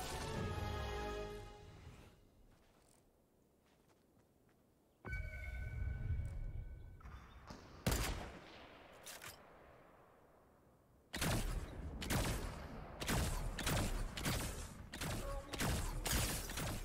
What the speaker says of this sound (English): I hear lots of gunfire over this way.